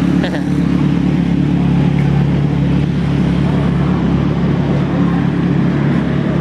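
A motorcycle engine from a group breakfast ride runs at a steady, close, low drone for the whole stretch, with no clear changes in pitch or rhythm.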